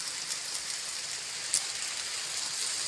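Heavy rain pouring down in a rural rice-field area of the Philippine provinces, a steady hissing wash that stays fairly faint and even, with one small spatter near the middle and no voices.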